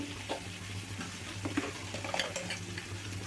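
Soft stirring of Kashmiri chili powder into a simmering parotta kurma, faint gentle scraping and light sizzle with a few small clicks of a spoon against the pan.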